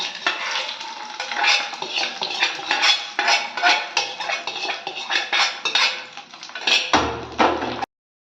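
A spoon scrapes and clinks against a pot as roasted ingredients are stirred and mixed, a rapid, steady run of close metallic scraping strokes that stops abruptly at the end.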